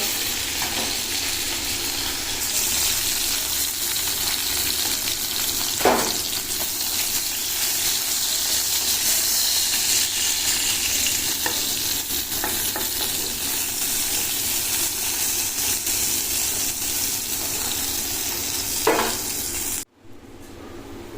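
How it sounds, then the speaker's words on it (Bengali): Fish frying in a pan gives a dense, continuous sizzle and hiss close up, with a few sharper pops and no talking. "দেখো মাছ ভাজা হয়ে গেছে এবার কিন্তু তুলে নেব"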